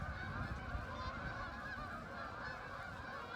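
Geese honk continuously in a wildlife management area used for duck hunting, a faint, steady chorus of overlapping calls heard from a distance with no talking.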